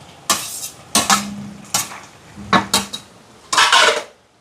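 Boiled potatoes dropped into a pot of dried fish curry make a series of sharp metallic clanks and scrapes of a spoon against the pot, several separate knocks with short pauses between them and a faint sizzle underneath.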